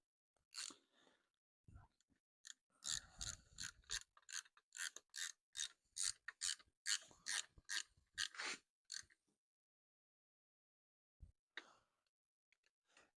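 A ratchet wrench tightens bolts on a 302 motor, with bursts of quick clicking strokes close up, some short and some long, pausing between runs and ending in near silence.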